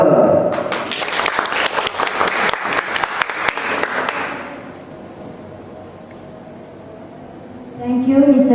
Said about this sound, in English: Give applause for her.